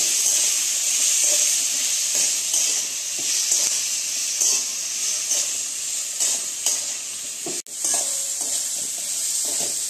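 Garlic and tomato with curry leaves and chillies sauté in a hot pan, a steady loud sizzle and hiss running throughout with occasional stirring scrapes and one sharp clack near the end.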